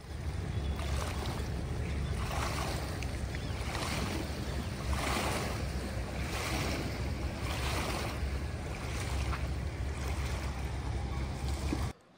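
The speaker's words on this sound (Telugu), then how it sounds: "ఇక్కడ ఈవినింగ్ టైము అక్కడ వాటర్ ఫ్లోట్ అయ్యే సౌండ్ ఒకసారి" Water laps and washes against the edge of Durgam Cheruvu lake in the evening, a steady, soft rolling wash with gentle surges, close by and uninterrupted by voices.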